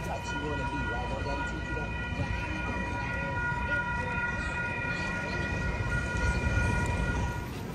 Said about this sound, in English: There was just a train.